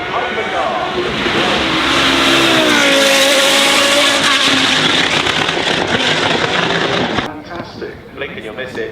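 A hypercar races flat out across the finish line, its engine a loud, continuous roar that holds for about seven seconds and then drops off sharply, with talk mixed in.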